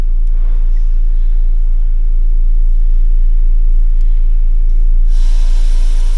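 A 2018 Chevy Colorado's 2.5L engine idles with a steady, close low rumble, and a brighter hiss rises over it near the end.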